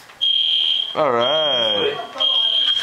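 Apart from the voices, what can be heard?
fire alarm going off in a building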